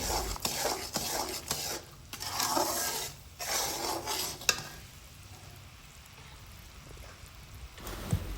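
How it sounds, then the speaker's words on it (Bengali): Jaggery cooking with ghee in a pan for motichoor laddu made with puffed rice, with soft sizzling and bursts of stirring scrapes that come and go, growing quieter and sparser toward the end; no voices. "ঘি দেওয়ার পরেও বেশ কিছুক্ষণ আমাদের এই গুড়টা নেড়ে চেড়ে নিতে হবে।"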